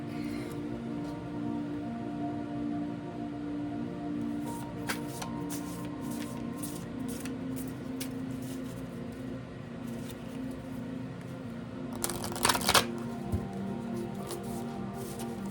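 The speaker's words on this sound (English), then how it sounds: "mixing them up a little bit more" Soft papery riffling and flicking of tarot cards being shuffled close by, intermittent and quiet over a low background hum, with a brief louder burst near the end.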